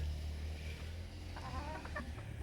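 Backyard chickens cluck in a few short, soft bursts, somewhat distant, over a low steady hum of outdoor background noise at a house build site.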